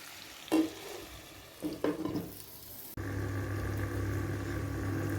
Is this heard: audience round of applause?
no